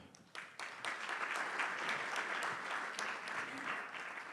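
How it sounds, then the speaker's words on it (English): Audience applause for Professor Marwala at the opening session of a leaders' summit: dense, steady clapping from a large hall crowd that builds quickly and holds at an even level without any talk. "Please give a round of applause for Professor Marwala."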